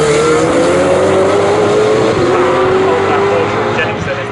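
GT race cars at Snetterton circuit roar loudly and continuously past, engines holding a steady drone with a gradually falling pitch, while a commentator talks over them.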